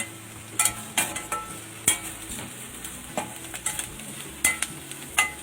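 Onions and a green chili frying in a pan until brown, with soft constant sizzling under repeated sharp scrapes and taps of a spoon against the pan, each stroke a distinct clack.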